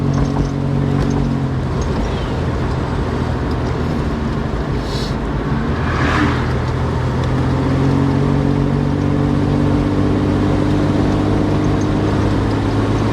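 A 1974 Volvo 164e engine pulls up to speed, a loud steady drone from inside the car with a slight rise in pitch partway through and constant road rumble beneath.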